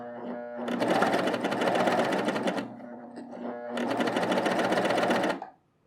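A three-needle sewing machine stitches a folded fabric edge in two loud, close, rapid-running bursts separated by a short pause, then stops abruptly.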